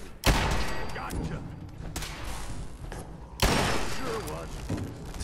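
Two loud, booming gunshots in Fallout 4's Nuka World, each followed by a reverberant tail and game ambience, with someone talking between and over them.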